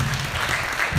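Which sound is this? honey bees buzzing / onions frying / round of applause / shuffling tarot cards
round of applause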